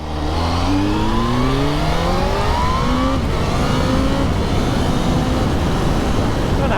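A supercharged Kawasaki Z H2 motorcycle engine revving loudly up close, its pitch climbing in repeated rising sweeps with a whining supercharger edge over the roar.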